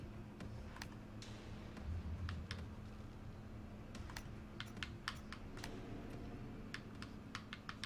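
Computer keyboard keys tapped in quick irregular bursts during a Killing Floor 2 gaming session, close and fairly clear over a steady low background hum, with no talking.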